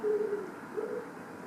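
A pigeon on a roof gives two soft, low coos about a second apart, heard faintly through a steady background hush with no voices.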